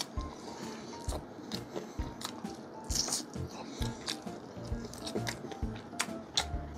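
Crunchy bites of crispy fried chicken skin, several sharp crackles followed by chewing, close and fairly quiet with no talking.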